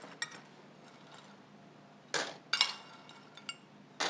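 Baking papers and bean pie weights are lifted out of mini tart shells, making a few sharp rattling clinks and brief rustling bursts separated by quiet gaps, fairly close and without talk.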